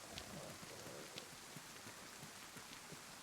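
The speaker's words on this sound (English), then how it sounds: "It's got to be the rain" Rain falls in the video game DayZ, a soft, steady hiss with scattered faint drop ticks, quiet and even throughout, with no voices.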